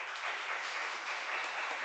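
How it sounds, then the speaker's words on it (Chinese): Steady applause from a church congregation for volunteer teachers, soft and distant, continuing evenly without pause. "我们给前面的得胜志工老师一个掌声"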